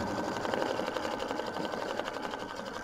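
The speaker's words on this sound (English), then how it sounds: "Stitch the felt placement line, remove the tape." A sewing machine stitches a placement line through felt on a quilt block, its needle hammering in a fast, steady, even rhythm that stays close and loud throughout with no pauses.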